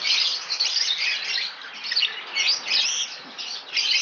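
Many breeding birds kept together, a dense, continuous chorus of high chirps and squawks at close range with no talk.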